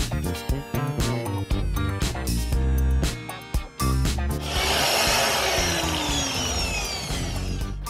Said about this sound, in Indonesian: kita ganti amplasnya menggunakan grit yang lebih halus, yaitu grit 400 ya guys